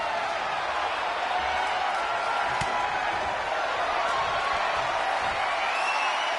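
Arena crowd in the WWE 2K25 wrestling video game roaring and cheering in a steady, dense wash of noise, with a couple of sharp slam-like hits cutting through midway.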